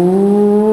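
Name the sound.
voice imitating a motorcycle engine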